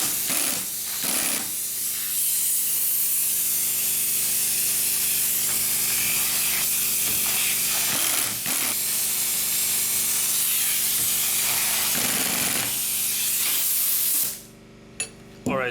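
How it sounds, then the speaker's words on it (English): Pneumatic impact gun tightening two spring compressors on a Toyota Highlander front strut, a loud continuous hissing air-tool roar lasting several seconds with brief pauses and pulses, ending in a short burst then quiet. "we're gonna use the gun to tighten these two spring compressors up"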